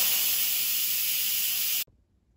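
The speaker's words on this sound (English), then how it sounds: "so let's quick release the steam." Instant Pot pressure cooker venting steam in a quick release, a loud, steady close hiss that cuts off abruptly near the end, leaving near silence.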